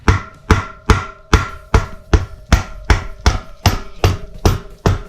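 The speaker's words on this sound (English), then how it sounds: "Now I'm gonna need a little bit of hammering." Hammer strikes ring out on metal during reassembly of a YZ250F motorcycle, about a dozen sharp, evenly spaced blows, close and loud with no talk.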